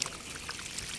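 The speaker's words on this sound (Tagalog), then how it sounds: "Ang lakas ng tubig, mayroong tubo dyan." Strong water gushing steadily from an irrigation pipe on a farm plot, a dense continuous rushing pour, close and loud without pauses.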